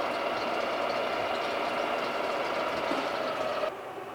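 A Carlton radial drill runs with its power feed engaged, giving a steady, loud broadband mechanical whir that holds evenly and then drops to a lower level near the end, with no talking.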